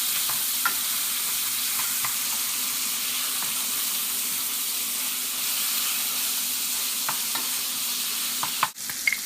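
Bacon frying slowly in a hot pan gives a steady, close hiss, with a few light stirring clicks and a small clatter near the end.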